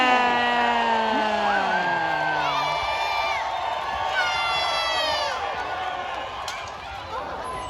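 A crowd at a Renaissance fair joust cheers, whoops and yells for the knights, with children shouting among steady, loud crowd noise and some voices near.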